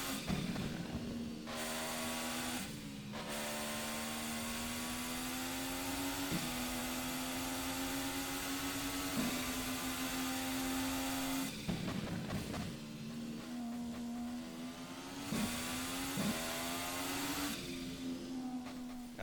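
An IndyCar engine in the rFactor 2 racing game drones at high revs, dropping sharply in pitch at gear changes and easing off through corners before rising again, steady and alone with no talk.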